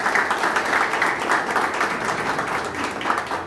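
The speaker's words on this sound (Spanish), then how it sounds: "también le damos un fuerte aplauso por acompañarnos" A crowd at a Libres del Sur press conference gives Antonio Nievas a sustained round of applause, an even wash of many hands clapping at moderate volume with no pauses.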